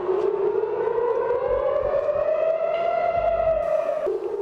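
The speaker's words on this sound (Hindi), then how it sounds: "केंद्रीय इजराइल के बेइत शेमेश और दक्षिणी वेस्ट बैंक इलाके में हवाई हमलों के सायरन बजने लगे।" An air raid siren wails over central Israel around Beit Shemesh, a loud, steady tone slowly rising in pitch and holding, then dipping near the end, with faint low rumbles beneath.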